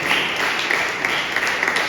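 A church congregation claps together in steady, dense applause that fills the room, with a faint voice mixed in beneath.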